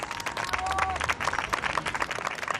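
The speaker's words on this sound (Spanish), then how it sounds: "Pero mi amigo, usted, un aplauso para Tomás." Audience clapping at a magic show in a Mar del Plata casino, Argentina; steady dense applause throughout, moderately loud, with a brief tonal sound partway through.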